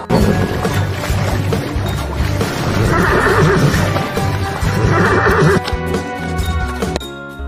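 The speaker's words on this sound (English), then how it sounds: "H for horse" A horse lets out a loud, close neigh with a rising and falling whinny that repeats in two strong bursts before trailing off, heard clearly on its own.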